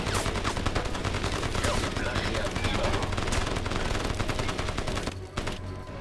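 Dense, continuous machine gun fire rattles through a Crysis firefight, rapid bursts overlapping loudly with other gunshots for several seconds before briefly thinning out.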